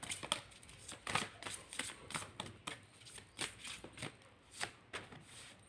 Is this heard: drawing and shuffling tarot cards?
yes